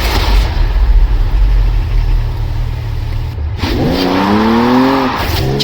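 A Jaguar car in Forza Horizon 4 driving under a loud, steady engine roar, then revving hard with rising gear sweeps partway through, close and continuous, with no talk.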